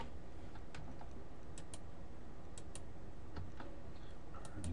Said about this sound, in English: Press R on the keyboard.